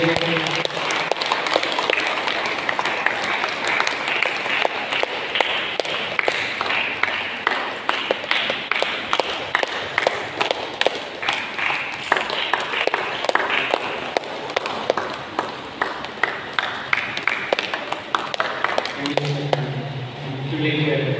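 An audience at a Second Sunday of Easter church gathering claps hands in steady applause for more than twenty seconds, dense and fairly close, fading near the end as a voice begins speaking.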